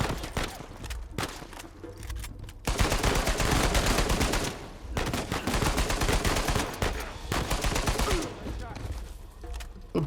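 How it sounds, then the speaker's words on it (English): Heavy automatic gunfire rattles through a firefight in the video game Uncharted 4, in loud sustained bursts broken by short pauses. "Suppressing fire."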